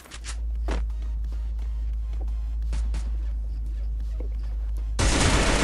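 Sharp gunshots from Free Fire ring out in a quick irregular series of close cracks over a steady low hum, ending in a loud burst of noise.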